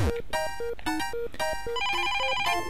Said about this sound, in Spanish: Lo de los teléfonos para indicarte para dónde tienes que ir no me ha molado